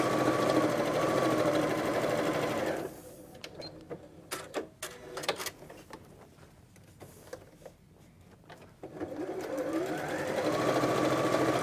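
A sewing machine chain-pieces quilt blocks, its needle whirring in a fast steady run, then stopping for a stretch of clicks and handling before starting up again near the end.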